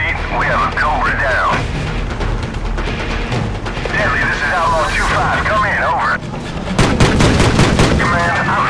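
Small arms gunfire crackles in the video game Call of Duty Modern Warfare, with scattered shots and a dense burst near the end, under voices and a constant engine roar.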